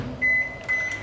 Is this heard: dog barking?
no